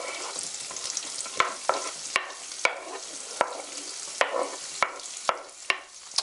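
Chopped onion frying in a hot pan for channa dal, a loud close sizzle with regular sharp scrapes as it is stirred.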